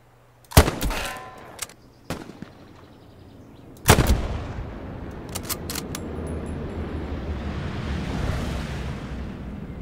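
Artillery fire in the World War II game Hell Let Loose: several sharp, loud booming shots spaced a few seconds apart, each followed by a long rolling rumble, with distant battle noise continuing underneath.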